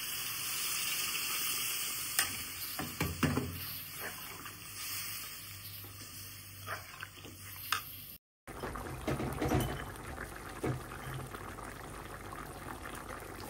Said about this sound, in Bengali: এই যে এখানে দিয়ে দিলাম ঝোলের জন্য এই যে গরম জল দিয়ে দিলাম।